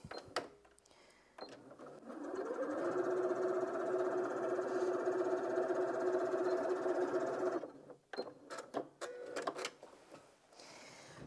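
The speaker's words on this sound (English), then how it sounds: "I've just got 2 5-inch squares here that I'm going to sew together" A Janome M200QDC sewing machine stitching two five-inch fabric squares together, a steady close mechanical whirring hum for about five seconds, followed by clicks and handling noises.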